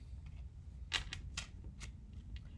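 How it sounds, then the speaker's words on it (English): Slippery golden-foil tarot cards are shuffled by hand, giving a few quick, crisp riffling bursts at close range against quiet background hiss, with no talk over them. "So I have to be careful when you shuffle these because they can go flying at any time."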